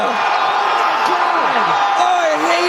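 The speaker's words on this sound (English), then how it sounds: "You can hear the crowd." Arena crowd at an MMA fight roaring and groaning as one in reaction to Weidman's leg snapping, a dense, sustained wash of many voices with a few rising yells, loud and steady throughout.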